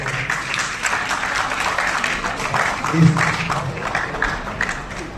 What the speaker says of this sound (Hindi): तालियां जोरदार बजाइए एवरीवन